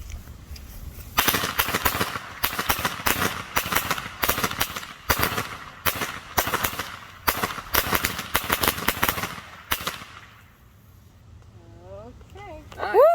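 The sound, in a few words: fireworks going off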